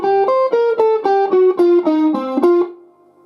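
A riff picked on a distorted electric guitar, around ten quick, clearly separated notes in a steady run, close and loud, the last note ringing briefly before it fades.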